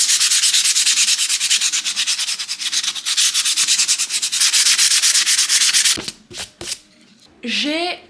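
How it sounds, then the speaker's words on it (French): Sandpaper rubs back and forth over a dried homemade pensieve to smooth away its seams. Rapid, steady, close rasping strokes continue for about six seconds, followed by a few scattered scrapes and a short spoken phrase. "je vais venir poncer pour enlever toutes les démarcations"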